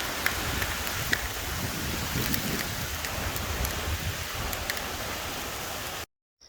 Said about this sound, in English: It is raining hard, but no hail yet.